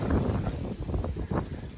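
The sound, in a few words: wind outdoors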